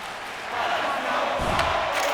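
Hockey arena crowd in the NHL 26 video game, a steady broad roar of cheering fans that swells slightly midway and holds at a loud, even level throughout.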